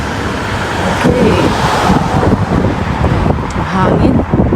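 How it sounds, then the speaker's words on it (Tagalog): Strong wind roars steadily into the microphone, a broad rushing buffet with gusts swelling and easing throughout, no clear voices. "Mahangin."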